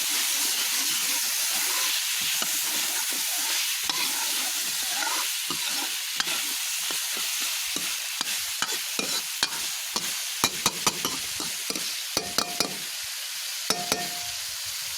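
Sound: stir-frying potatoes in tempered oil

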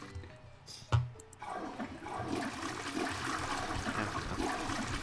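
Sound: toilet flushing in the video game Who's Your Daddy

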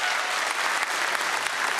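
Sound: applause

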